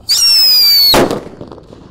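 A Blackbuster firework lit and set off: a loud, steady high whistle for nearly a second, then an abrupt burst that fades quickly into quiet.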